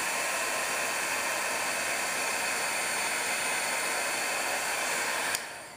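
Steady, loud broadband whoosh of a heat embossing tool blowing hot air over an embossed stamped image, running continuously and cutting off abruptly near the end.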